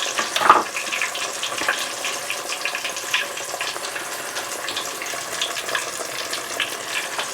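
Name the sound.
chicken fried steak frying in oil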